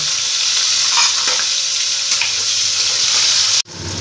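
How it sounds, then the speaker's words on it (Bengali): Drumstick pieces and potato go into hot oil tempered with cumin seeds, giving a loud, continuous frying sizzle with faint stirring scrapes. The sound cuts off abruptly just before the end and then resumes. "ফোড়নটা হয়ে এলে আমি সজনে ডাঁটা আর আলু দিয়ে দিচ্ছি"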